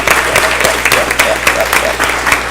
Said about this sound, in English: Please stand and give him an applause.